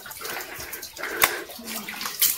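Splashing, running water close by, with a steady stream and a few sharper splashes as something is rinsed.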